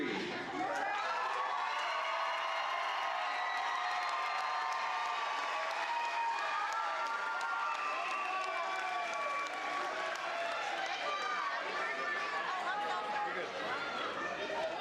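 A graduating class's 2025 ceremony at Horizon Science Academy Toledo fills with sustained audience applause and cheering, loud and steady throughout, with crowd chatter mixed in.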